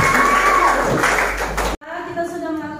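Students in a classroom break into a short burst of clapping and cheering under a teacher's voice, ending abruptly as talk continues.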